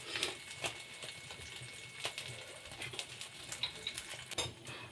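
Minced meat patty frying in a pan with soft sizzling crackle and occasional scraping or pressing clicks from a utensil, steady and close, with no voices.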